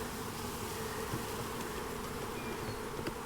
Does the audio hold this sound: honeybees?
yes